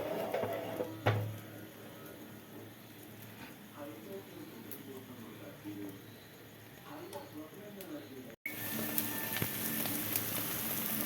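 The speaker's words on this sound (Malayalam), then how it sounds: "അതെല്ലാം കൂടെ കൂട്ടിച്ചേർത്ത് നമുക്ക് മുട്ടയും കൂടെ പൊരിച്ചെടുക്കാം." Egg frying in a pan with chopped green chili, onion, ginger and curry leaves gives a soft, steady sizzle with faint clinks, under a person talking throughout.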